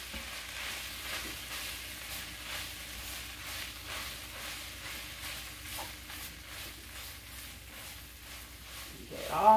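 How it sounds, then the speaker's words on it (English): Southern fried rice is stirred and mixed in a pan, giving soft, quiet scraping and a faint sizzle throughout, with a brief louder clatter at the very end. "then we're just gonna mix that all up real well"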